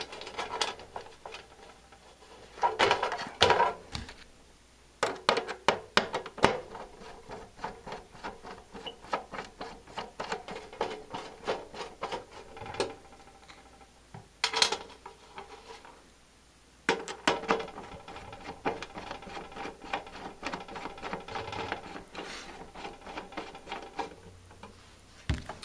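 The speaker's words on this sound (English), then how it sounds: "This might take a minute to get these screws in here." Screws are driven into a 150 W high-pressure sodium wall pack light, producing repeated bursts of ratcheting, clicking driver turns and small knocks that come in uneven runs with short pauses.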